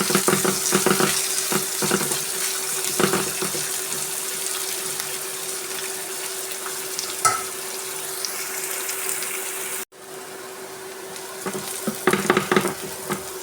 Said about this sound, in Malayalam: ഇതിനകത്തേക്ക് സവാള ഇട്ട് കൊടുക്കാം.